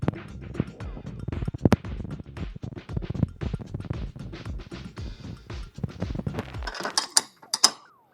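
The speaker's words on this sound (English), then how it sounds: "Now we just go around and tighten up the 13mm headed bolts that hold the backbone mounts to the roof platform." A ratchet tightening 13mm bolts on a Supa4X4 roof rack's backbone mounts, a close run of quick clicking pawl strokes in a steady rhythm, ending with a few sharper metallic clinks.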